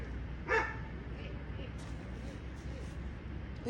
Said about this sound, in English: You lost your dog.